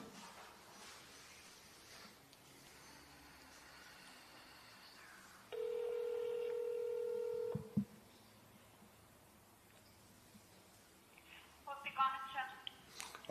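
A phone on speakerphone places a call to the police from Gyumri: a steady, loud tone holds for about two seconds midway, and a quick run of dialing beeps comes near the end, over a low background.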